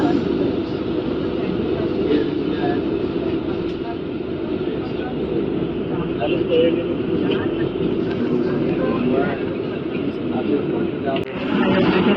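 A steady, loud engine roar with a broad rumbling hiss fills the whole stretch, like a large aircraft idling nearby on the ground at an airport.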